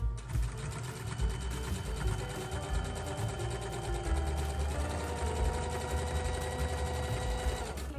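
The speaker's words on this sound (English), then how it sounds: "Now we're just sewing a straight stitch." A sewing machine runs a continuous straight stitch on a zippered make-up pouch, its rapid, even mechanical whir steady and close throughout.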